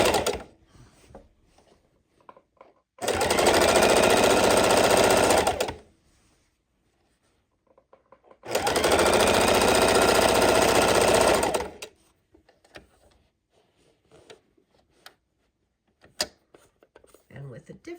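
A sewing machine stitches up the side of a quilted book bag through about six layers of fabric in two steady, loud bursts of a few seconds each. Quiet gaps with faint handling noises separate the bursts.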